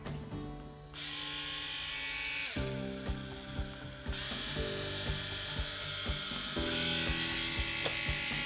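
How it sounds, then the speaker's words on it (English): A mini drill fitted with a cutting disc whirs at high speed and bites into plastic, a steady buzzing whine broken by repeated sharp clicks and ticks as the disc grinds through the material. "Let's try to cut this plastic."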